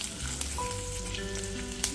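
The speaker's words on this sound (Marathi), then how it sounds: "आपले कारले मस्त फ्राय होत आहे।" Stuffed bitter gourd, steamed beforehand, fries in oil with cumin in a pan, giving a steady close sizzle with a couple of sharp spatter pops and no speech.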